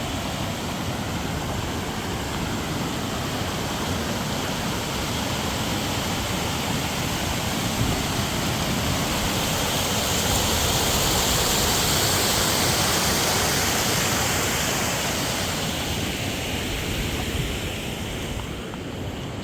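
Steady, loud rush of water flowing across a low concrete crossing, a continuous broadband roar with no breaks and no voices.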